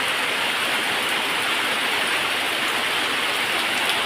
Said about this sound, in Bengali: এখন দেখো কত বৃষ্টি হচ্ছে, জোরে বৃষ্টি হচ্ছে।